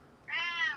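A single clear meow from a house cat, close and fairly loud, lasting about half a second after a quiet start.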